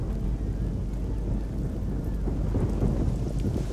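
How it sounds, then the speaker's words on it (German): Steady rain with low rumbling thunder in the video game Risen 2, a dense continuous wash of rainfall with deep booming underneath, fairly loud and without talk. "hat gerade sogar beim Schlösserknacken geregnet"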